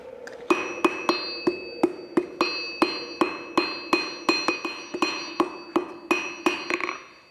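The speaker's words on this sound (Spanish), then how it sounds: "vamos a empezar a martillar a la hoja" Steady metallic hammer strikes on a hot knife blade forged from an old scythe ring out on an anvil, about two blows per second, loud and close with a bright ringing tone after each hit.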